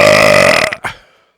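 A single loud, close burp, a long rumbling belch that breaks off with a short second gulp before fading to silence.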